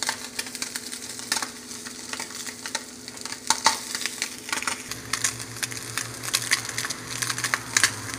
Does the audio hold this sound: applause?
no